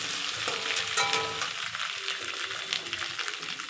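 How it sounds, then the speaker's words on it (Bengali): Potatoes and raw tomatoes fry lightly in a pan, giving a steady, close, hissing sizzle across the whole stretch, with a few brief stirring scrapes and no voices. "আলু আর টমেটো দেওয়ার পরে একটু হালকা ভেজে নিয়েছি"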